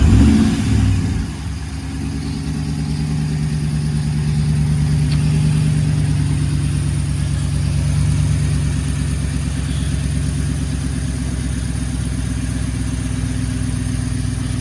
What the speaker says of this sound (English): I'll start the truck one more time